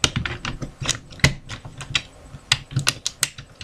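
Plastic parts of a Nerf Raider blaster snapping and clicking into place, a quick series of sharp, close, dry clicks like typing, with one louder snap partway through.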